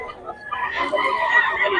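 Roosters and chickens of the pumpkin and sweater varieties in Bocaue, with clucking and crowing-like calls rising through the second half over a busy background, alongside faint voices.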